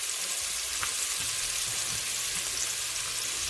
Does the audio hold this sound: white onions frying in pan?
yes